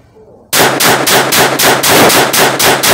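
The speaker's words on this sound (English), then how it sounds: "I got an okay from the range officer to go for rapid firing," A Glock 44 .22LR pistol fires rapidly at an outdoor range with high velocity ammunition. After a quiet start, a loud, fast, even string of about ten close shots runs on without pause.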